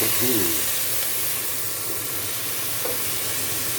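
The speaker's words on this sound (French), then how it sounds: "ça c'est ce qui s'appelle déglacer les sucres" White wine poured into a hot pan of pork filet mignon hisses and steams steadily, a broad sizzle filling the space with a brief voice-like murmur near the start.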